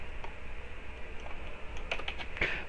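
Typing on a computer keyboard while entering characters into a Crystal Reports 2020 edit mask field, sparse key clicks that gather into a quicker burst toward the end, close and fairly quiet, no talk.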